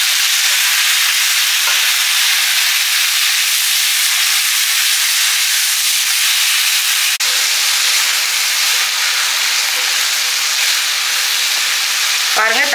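Finely chopped tomatoes sizzle and fry steadily in a hot pan, a loud, continuous broadband hiss with a faint stir or shift partway through and bubbling near the end, with no talking.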